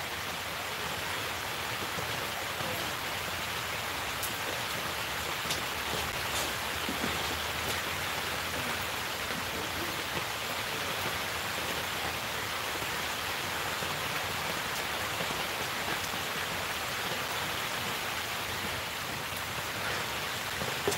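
Steady rain falls without a break, a dense even hiss that stays constant throughout with no voices over it.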